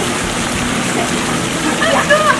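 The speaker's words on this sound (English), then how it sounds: "Got your water feature with your own little personal grotto." A pool water feature pours into a small personal grotto, a steady close splash and trickle of falling water with no voices over it.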